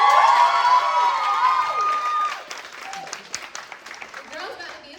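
A crowd at a stand-up comedy show cheers and shouts, with high voices and a dense wash of noise that breaks into scattered claps as it fades.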